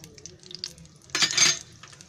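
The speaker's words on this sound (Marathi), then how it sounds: "आता त्याच्यामध्ये आहे ना आम्ही रवा घेतलाय वरीचा, तो त्याच्यामध्ये आता भाजून घेते." Samo seed semolina roasting in hot ghee in a pan, heard as a soft steady sizzle with faint scraping and clinks, swelling into a louder burst of frying hiss midway before settling back; no talking.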